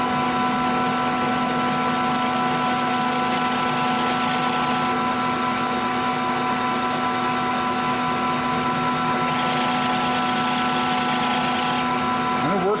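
A high-speed steel center drill cuts metal, likely on a lathe, giving a steady, continuous machining drone with sustained tonal whine over a low motor rumble throughout.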